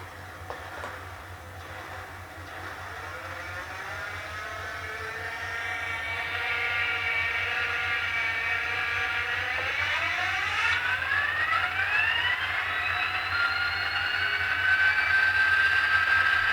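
An ESU sound decoder in a Kato SD40-2 model locomotive plays diesel engine sound, a steady low rumble joined by a rising, whining tone that climbs and holds as the engine revs up, with no talk.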